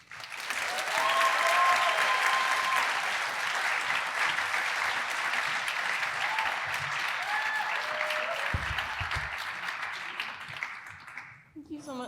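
Sustained audience applause filling a hall at a midyear graduation ceremony as a speaker is welcomed, loud and steady for about eleven seconds before tapering off.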